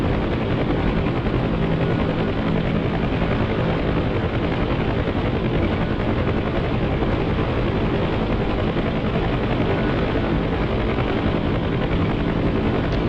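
Steady, loud rotor roar of a helicopter in the flight simulator game DCS, droning continuously without letup, dense and close, with no voices.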